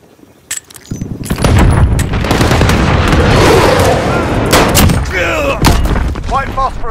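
A gunship's heavy weapons pound the ground in a modern military shooter on the map Vacant, with loud booming impacts and rumbling explosions that go on for several seconds, plus sharp gunfire and in-game radio voices.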